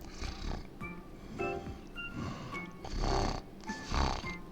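A voice tries to mimic a cat's purr, producing several short breathy, croaky bursts that come out more toad-like than feline, close and moderately loud.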